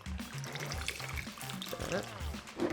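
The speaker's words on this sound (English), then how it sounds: "Now, the star of the show, the tequila. We're gonna add 2 ounces." Blanco tequila poured into a cocktail shaker for a white cranberry margarita, a short trickling pour with light liquid splashes, heard close and fairly faint.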